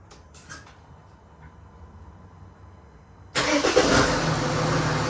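A Mercedes turbo diesel car fires up after a quiet stretch with faint background noise, the engine catching abruptly and settling into a loud, rough, steady running roar close by, with no talking.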